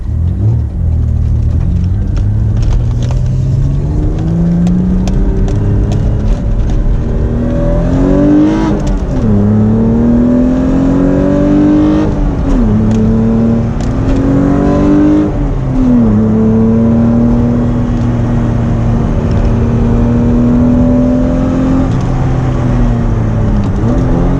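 A V6-swapped Toyota MR2 pulls hard on a mountain road, engine loud and close from inside, revs rising and falling through gear changes with a sustained droning whine as the tyres spin.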